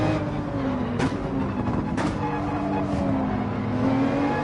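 Race car engines in Gran Turismo 7 hold a steady drone as a car passes on a hill, with a few sharp transient bursts breaking the continuous mechanical roar; no talk is heard.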